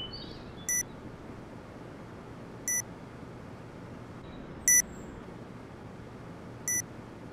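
Planted bomb timer in a multiplayer shooter, giving four short, sharp electronic beeps spaced about two seconds apart over a quiet background hum.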